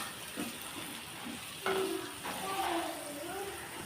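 Potato pepper fry being stirred in a pan with ground pepper, a steady sizzling hiss under scraping and a few light metallic clinks, close and moderately loud.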